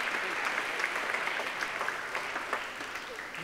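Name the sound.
audience applause for Making Waves Award winners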